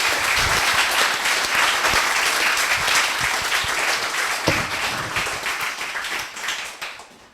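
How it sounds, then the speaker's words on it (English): Loud crowd applause at a coding bootcamp graduation ceremony, a dense wash of clapping that holds steady, then thins and fades toward the end, with a few sharper individual claps standing out. "Round of applause,"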